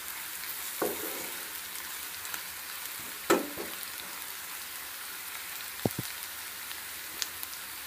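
Turmeric stirred into fried onions in a pan, a steady sizzle under intermittent scraping of a spoon with a few sharper clinks, close and moderately loud, no voices.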